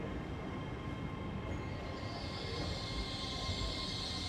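A train in Scotland rumbles steadily into a station, with a constant mechanical roar and a rising high whine as it runs in. No voices.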